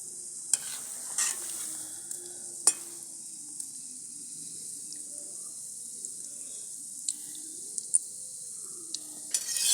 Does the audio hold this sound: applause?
no